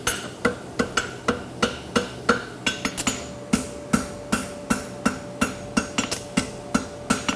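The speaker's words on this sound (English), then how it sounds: "I'm chipping it in with the edge of my hammer." Hammer edge chipping a scarf weld into a lateral bar horseshoe at the forge, a steady run of sharp, ringing metal strikes about twice per second, close and alone with no talk.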